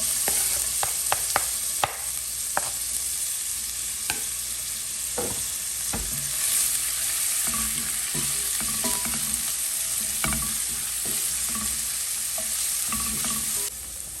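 Onions fry in a pan for a quick pasta dish, a continuous close sizzle broken by repeated sharp clicks and scrapes of a utensil stirring against the metal, no voices.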